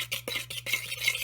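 A spoon stirs an egg mixture in a bowl, giving several quick scraping, clinking strokes close by over a steady low hum, with no one talking.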